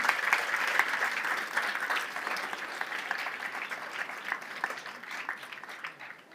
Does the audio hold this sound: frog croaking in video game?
no